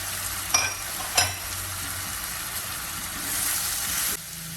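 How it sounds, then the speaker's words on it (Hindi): Onions sizzle steadily in a pan with oil while being stirred for a minced beef dish, with a couple of sharp utensil scrapes early on and a continuous hiss throughout, no talking. "अभी हम इसमें प्याज भी डाल देंगे।"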